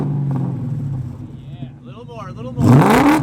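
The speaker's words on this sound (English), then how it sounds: "listen to mine with a cat and muffler delete" BMW E39 M5 V8 with its catalytic converters and mufflers deleted, revving in a loud rising blip near the end after a stretch of talk and low idle rumble.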